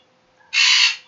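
A happy pet bird gives a single loud, harsh call lasting about half a second, close by and alone in an otherwise quiet room.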